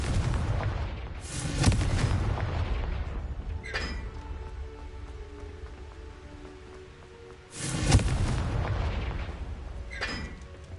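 Confringo blasting curse explosions from a Harry Potter game: two heavy booming blasts several seconds apart, each with a rumbling, crackling tail over a steady noisy background.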